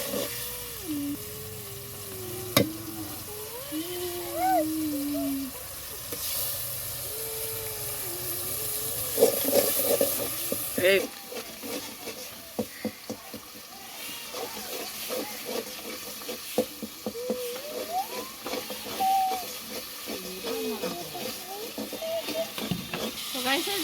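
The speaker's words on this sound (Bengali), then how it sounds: "মশলাটা কষা হয়ে গেল, এখন এই যে শিম দিব, দিয়ে একটু কষাই নেব।" Spice paste of salt, turmeric and ground cumin, ginger and garlic frying in a pan while being stirred, giving a steady close sizzle with scraping stir strokes throughout.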